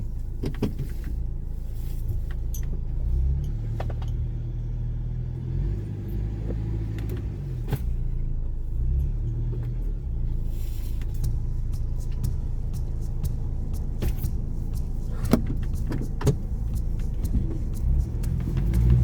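A Badlands Ford Bronco rumbles through an off-road trail during a three-point turn, with a low steady engine drone and occasional clunks and knocks from the terrain and drivetrain.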